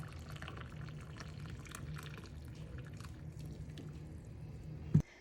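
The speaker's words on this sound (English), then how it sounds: "So we'll go ahead and pour it and give it a try." Freshly steeped tea is poured steadily for several seconds into a cup nearby, making a soft continuous trickle that ends with a small clink.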